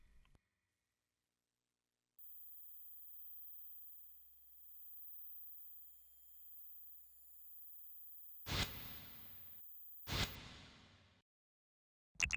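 A steady, very high-pitched pure tone hums on for several seconds at low volume, interrupted by two sharp noisy bursts and a brief click at the end.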